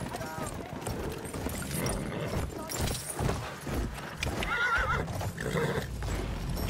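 A cavalry horse in Battlefield 1 gallops with rapid clip-clop hoofbeats and lets out whinnies and neighs amid battle noise, with shouted voices over the action.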